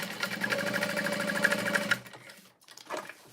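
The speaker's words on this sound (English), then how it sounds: "and sew around" Nearby, a sewing machine stitches around a bag's lining slip pocket with a steady, fast mechanical chatter for about two seconds. It then stops, leaving quiet handling sounds.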